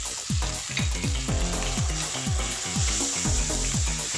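Minced pork with oyster sauce, sugar and seasoning powder sizzles loudly in a pan while a utensil scrapes and stirs in a steady rhythm of about two strokes per second, close and continuous with no talk.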